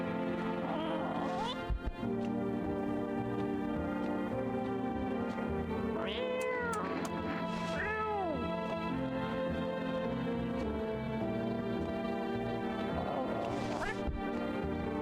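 A cat in a video game meows repeatedly while being picked up and carried, drawn-out wavering cries rising and falling over a steady game music background, with some brief clatter early on.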